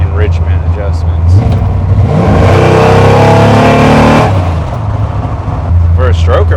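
A 347 stroker V8 in a classic Ford Ranger revs up hard and loud, holds a roaring climb, then drops back to idle, with brief voices before and after.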